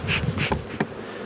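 Honey bees hum around frames of brood in an open hive, a close, steady buzzing with a few louder passes and faint handling noise.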